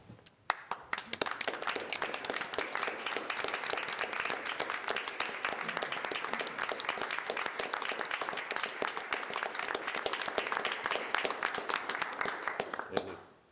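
A room of people at a county commissioners' meeting stands and applauds two gentlemen, the dense, even clapping holding steady for over ten seconds before fading, with faint voices beneath.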